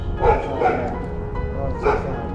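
A dog yips and barks in short bursts close by, with a few whimpery calls over a noisy outdoor background during a fishing outing.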